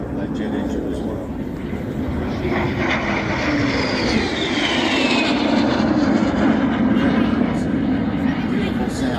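De Havilland Vampire jet aircraft at the Warbirds over Wanaka air show, a steady loud roar of its jet engine sweeping past throughout, with a rising and falling whine layered over the broadband rush.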